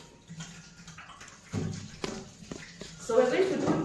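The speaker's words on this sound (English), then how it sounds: "Let me also wash my hands." Hands being washed under a running tap in a home kitchen before baking, with a soft rush of water and splashing that grows louder toward the end, mixed with light clatter.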